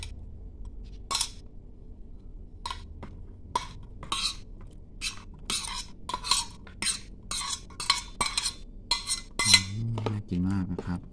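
A utensil stirs a soy-sauce pickling mixture with chilli, garlic and white sesame in a bowl, making repeated light clinks and scrapes against the dish, close and irregular, with a voice briefly at the end.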